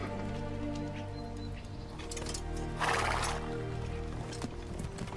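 Horses whinnying and hooves pounding in a dubbed film scene as riders mount up, a burst of neighing over continuous clattering gallop and rumbling soundtrack, fairly loud and busy.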